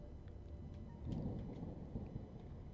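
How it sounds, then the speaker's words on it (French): Thunder rumbles low and steady in the Starbound video game, a continuous dull roll with rain-like texture and a few soft crackles. "Il doit y avoir une, un, du tonnerre au-dessus."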